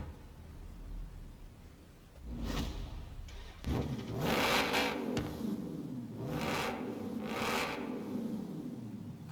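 In Forza Horizon 4, a DeBerti Design Jeep Wrangler engine cranks and catches, then settles into a low, rumbling idle with a few revving swells, heard at moderate volume with no talking.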